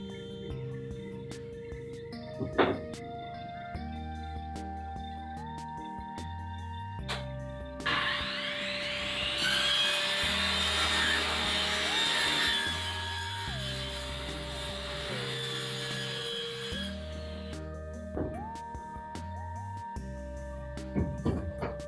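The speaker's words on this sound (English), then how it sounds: "Now what I'll do is I'll cut this at an angle" A power saw cuts scrap OSB board at an angle while a tiny off-grid house is being built, giving a few seconds of harsh, loud whining buzz over a quieter background hum, with no voices.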